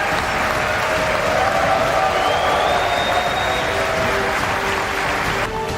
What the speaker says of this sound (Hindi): अमेरिकी संसद में मोदी के भाषण के बीच 79 बार ताली बजी